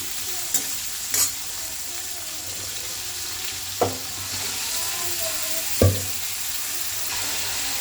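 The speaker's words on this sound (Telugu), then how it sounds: "ఇలా మనం ఫ్రై చేసుకోవాలి" Thinly sliced, washed potatoes fry uncovered in hot oil for an Andhra-style potato fry. A steady, close sizzling hiss runs throughout, broken by a few sharp clinks of a stirring utensil, with no talking.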